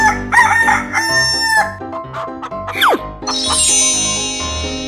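A rooster crows from a 3D animal video game with a sharp, sliding cock-a-doodle-doo amid bouncy chiming game music, followed by a bright jingle; no voices.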